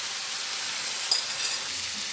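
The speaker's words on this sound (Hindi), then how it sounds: "और हमने इसको शैलो फ्राई कर लेना है, बना लेना है। यहाँ पे मैंने 2 टेबलस्पून ऑयल लिए और इसके अंदर अब हम इसको पका लेंगे।" Small chicken breast pieces shallow frying in about two tablespoons of oil over a high flame, a steady hissing sizzle that holds evenly throughout with one brief tick, no talking.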